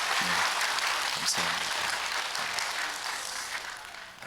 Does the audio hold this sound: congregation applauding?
yes